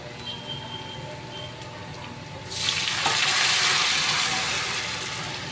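Dal cooking in a pan at home for breakfast: a quiet background hum, then a sudden loud sizzle as ingredients hit hot oil, continuing steadily and easing slightly toward the end.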